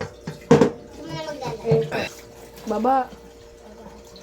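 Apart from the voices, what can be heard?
water being poured out of a cooking pot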